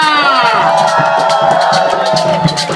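A crowd at a Venezuelan-themed event cheers and shouts together, a loud, dense wash of voices and high whoops sustained near and full throughout the moment.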